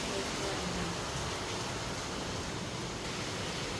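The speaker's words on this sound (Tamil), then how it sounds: "வெளியே வந்து வெளுத்துட்டு இருக்கு மழை அடை மழை" Heavy downpour outside, a dense steady broadband roar of rain pouring without a break, loud and close throughout.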